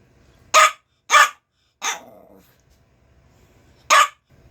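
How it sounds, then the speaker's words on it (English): A dog barks four times in sharp, loud bursts, three in quick succession and then one more after a pause, close by in a home kitchen with a low hum underneath. "He's going to bark at me while I got it out."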